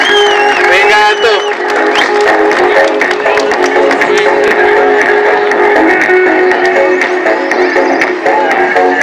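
A crowd cheers, whoops and applauds for a highline athlete at an urban highline competition, a steady dense roar of voices and clapping throughout, with talk mixed in.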